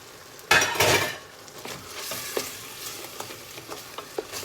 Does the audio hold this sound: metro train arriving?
no